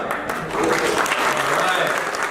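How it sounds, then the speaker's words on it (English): A convention crowd at a C2E2 Animal Crossing panel breaks into applause, a dense, sustained wash of many hands clapping with voices mixed in, swelling slightly after the first half second and holding steady. "good job, round of applause"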